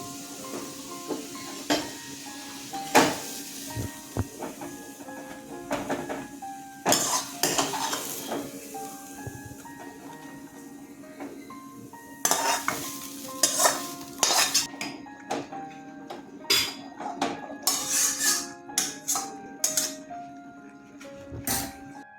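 Bottle gourd simmering in boiling milk in a pot for payesh, with repeated metal spoon scrapes and clanks against the pot over a steady low bubbling hum, the stirring coming in irregular bursts.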